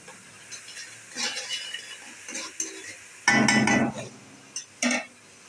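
A spoon stirs and mixes potato curry with a little hot water in a pot, giving scraping clinks against the metal in uneven bursts, one louder stretch of rubbing and clattering, close by with no talking.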